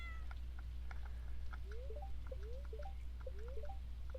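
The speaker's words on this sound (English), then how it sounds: "So here's my cat." Cat meowing in the Stardew Valley video game: several short, bright meows and chirpy rising calls repeat in quick succession over a steady low hum, with no talking.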